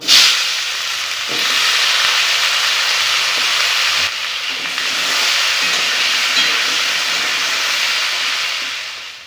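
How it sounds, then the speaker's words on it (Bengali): A loud, steady hiss of potatoes frying in hot oil in a wok runs without a break, broad and close, with no voices. "এই কড়াতে আলুগুলো ভেজে নেবো"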